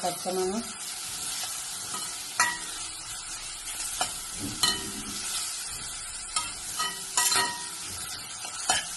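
Crushed ginger, garlic and green chili frying in a pan for a green peas curry, a close bright sizzle with frequent spoon scrapes and clinks as the mix is stirred, no voices.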